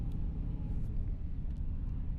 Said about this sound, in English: Traffic's picking up a little.